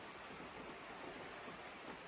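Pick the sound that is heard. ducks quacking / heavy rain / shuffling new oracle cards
heavy rain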